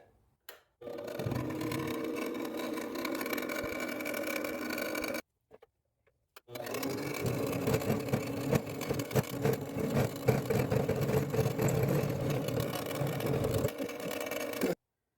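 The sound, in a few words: mini lathe with 4-jaw chuck machining a flat spot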